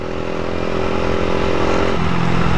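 A 125cc Orkal NK01 motorcycle engine runs close by at a steady idle, with harmonic drone and light mechanical clatter, and a small blip in pitch near the end.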